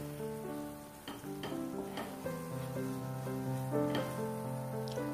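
Spinach cooking in oil in a pan for dal palak, a gentle continuous sizzle with occasional stirring scrapes, heard under a layer of soft background music.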